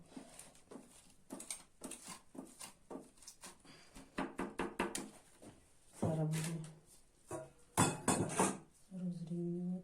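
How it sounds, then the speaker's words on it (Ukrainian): A block of butter scrapes across a grater onto an apple pie in repeated rasping strokes, close up, mixed with light kitchen clinks while someone talks over it. "Пачку масла я тру."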